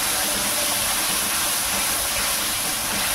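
Masala spice paste frying in oil gives a loud, continuous hiss and sizzle, close and steady for the whole stretch with no voices over it.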